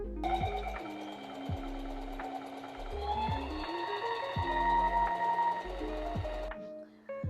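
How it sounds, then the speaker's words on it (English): A sewing machine top stitching a corset runs steadily with a fast mechanical whir and rhythmic thumps, close and fairly quiet, stopping near the end; no talking. "I'm going to go to my machine and just top stitch all of this down"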